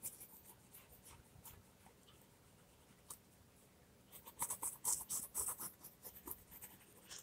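Pencil tracing over drawn lines on notepaper, faint scratchy strokes at first, then a louder run of quick rhythmic scribbling strokes close up in the second half.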